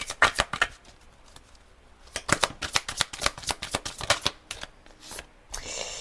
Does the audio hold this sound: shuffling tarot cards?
yes